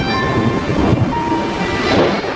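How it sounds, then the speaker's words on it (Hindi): Heavy rain with rumbling thunder as a cartoon sound effect in a jungle scene, a dense continuous roar of downpour with deep low rumbles swelling through. "बारिश बहुत ज्यादा तेज थी।"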